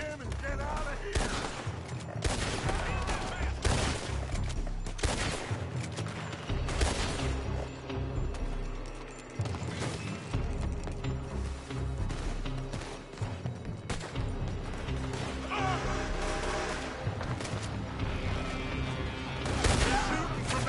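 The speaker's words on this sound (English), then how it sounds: "Shooting from that building." Dense, sustained gunfire from a Red Dead Redemption 2 shootout, with rapid overlapping shots and booming reports fired from a building, loud and continuous throughout with brief dips in intensity.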